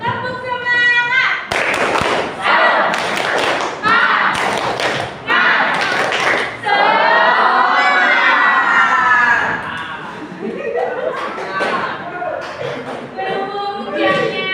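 Vocational school students repeating a tepuk semangat spirit-clap chant, sharp rhythmic clap bursts and thumps mixed with loud group shouting and chanting voices, close and lively.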